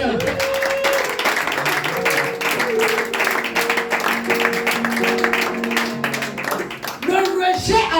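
A church congregation applauds during a Sunday service, with steady dense clapping and tonal singing or voices running under it for several seconds before a brief lull and a fresh burst.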